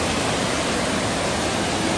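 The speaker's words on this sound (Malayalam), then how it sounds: "ഇതാണ് ഇവിടുത്തെ മെയിൻ വെള്ളച്ചാട്ടം." Marottichal waterfall, the main falls in Thrissur, Kerala, roars as a steady, dense broadband rush of falling water, loud and close, with no break across the whole stretch.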